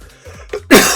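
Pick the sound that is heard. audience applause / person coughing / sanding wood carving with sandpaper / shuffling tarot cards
person coughing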